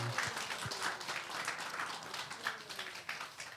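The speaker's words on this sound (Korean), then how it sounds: "격려의 박수하겠습니다" Church congregation gives a brief round of encouraging applause after a worship song, a moderate scattered clapping from a modest crowd with faint voices mixed in.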